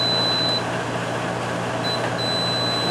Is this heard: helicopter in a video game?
no